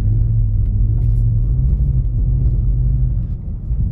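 BMW E46 rear-wheel-drive car driven through a snowy blind corner, its engine giving a steady, loud, low rumble that holds almost unbroken for the whole stretch, with no talking.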